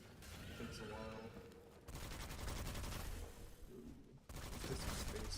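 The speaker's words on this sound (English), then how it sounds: "I really like this little machine gun now." The starter machine gun in Witchfire fires in rapid sustained bursts, close and punchy, with brief gaps between volleys and a low rumble beneath the shots.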